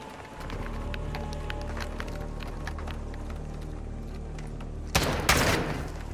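Video game gunfire in a Call of Duty: Modern Warfare II match on the US Embassy map, a steady sustained din of shots and action with a louder burst of close gunfire near the end.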